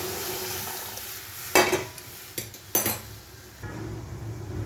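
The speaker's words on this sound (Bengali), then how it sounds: "ডালটা দিয়ে দিলাম ফোড়নে" Lentils drop into hot oil tempered with garlic, chopped onion and curry leaves, giving a sharp sizzling burst followed by stirring scrapes and a second crackling surge, then a softer steady fry; no talking.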